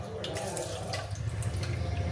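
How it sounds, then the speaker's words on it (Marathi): Boiling water is poured through a sieve holding butter while ghee is being made, a steady splashing stream running for about two seconds at close range. "याच्यात पाणी मी उकळते केलेलं आहे ते त्याने अशी चाळणी या पद्धतीने"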